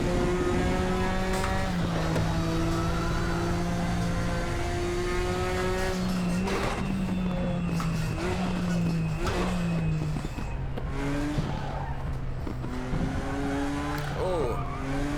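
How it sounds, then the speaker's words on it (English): Vintage race car in the Raceroom racing game at Sonoma, engine droning loud and steady with shifting pitch as the tires scrub through an understeering corner, a rough hiss beneath the engine note. "You can really hear the tires scrubbing through there."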